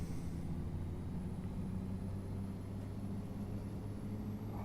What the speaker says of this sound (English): Oh, I love the noise this truck makes. Just wants to rev.